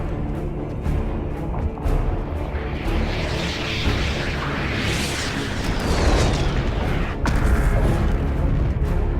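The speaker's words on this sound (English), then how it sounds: "The theme continues as more and more rifts open, with rockets coming out of each one." Rockets launching from opening rifts during a Fortnite in-game live event, heard as a dense, loud rumbling roar of booms and blasts layered over an event soundtrack, building steadily with a rushing swell midway.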